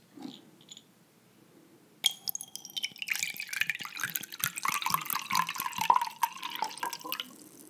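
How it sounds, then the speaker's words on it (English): Filtered water poured into a glass holding a mouthwash tablet; after a quiet start, a close, steady splashing trickle begins at about two seconds and runs for roughly five seconds. "And then I will use a little bit of filtered water."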